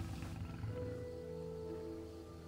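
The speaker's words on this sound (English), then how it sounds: "It sounded like a lion." A lion-like roar in the game Fallout: New Vegas, a low, droning growl with a steady tonal hum, faint and distant, held evenly for a couple of seconds without talk.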